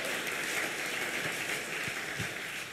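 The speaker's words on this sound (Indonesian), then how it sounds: "Beri tepuk tangan yang luar biasa." A church congregation applauding during a Sunday worship service: steady, fairly faint clapping spread across the room, continuous for a few seconds without a clear break.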